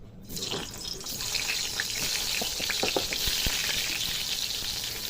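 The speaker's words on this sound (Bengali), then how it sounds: "তেলটা কিন্তু গরম হয়ে গেছে, এখন পটলগুলো ভেজে নেব।" Pointed gourds fry in hot mustard oil in a kadai, giving a loud, continuous hiss and sizzle. Faint pops and stirring scrapes rise through the spatter at close range, with no voices.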